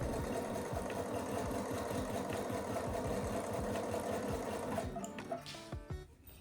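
A sewing machine stitches a partial seam in a quilt top of lined pieces, a steady rapid mechanical chatter that runs continuously at close range before slowing and stopping near the end.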